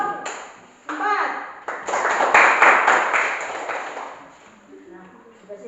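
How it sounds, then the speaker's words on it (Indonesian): Pupils in a classroom clap for a group of classmates, bursts of fairly close hand-claps that swell, hold and taper off, mixed with children's voices and a teacher talking. "berikan tepuk tangan untuk kelompok"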